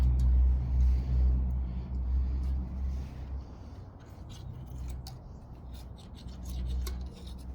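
Rough, continuous rasping and scraping of an old exhaust gasket being worked off with a poor-quality gasket scraper on a Jeep, close and fairly loud over low rumbling background noise, no talking.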